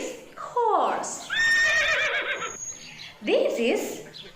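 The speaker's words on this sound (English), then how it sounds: "This is horse." A horse neighs in several bursts, a loud, close, quavering whinny with short pauses between calls and no other sound around it.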